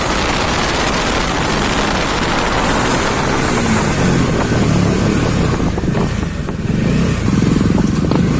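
Modified Bajaj RS 200 motorcycle being ridden, a loud, continuous engine roar mixed with heavy wind rush, close and steady throughout with no talk.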